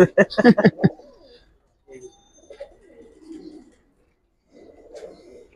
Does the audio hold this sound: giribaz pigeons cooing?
yes